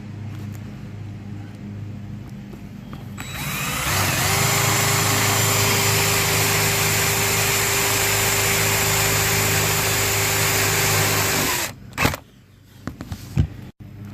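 Power drill running steadily during a cover lift installation, boring through metal with a loud, sustained whine lasting about eight seconds before cutting off, followed by a few brief knocks.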